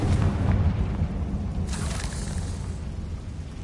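Spells explode in the video game Hogwarts Legacy, giving deep booming bursts. A heavy blast opens, a second crackling burst follows midway, and a rumbling tail continues, with no speech.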